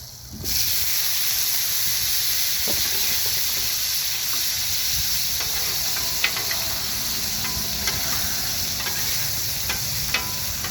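A steady, loud hiss of microwave-steamed potatoes sizzling on a hot griddle, with occasional faint clicks and pops throughout.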